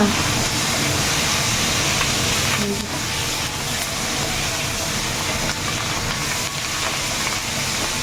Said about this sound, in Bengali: কি সুন্দর ফাটছে চটচট করে।